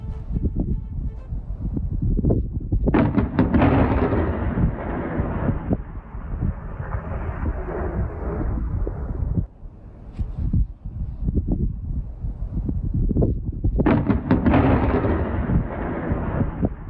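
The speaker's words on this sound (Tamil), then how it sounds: "ஸ்பெயினில் பெய்த கனமழையின் போது பார்சிலோனாவில் ஆண்டனா ஒற்றை மின்னல் தாக்கிய காட்சிகள் வெளியாகியுள்ளன." Thunder from lightning striking an antenna during heavy rain in Barcelona, Spain: loud, deep booming rumbles that roll on for several seconds, fade, then crash back again, with no voices.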